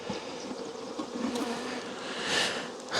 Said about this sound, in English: the bees are not really in a good mood today.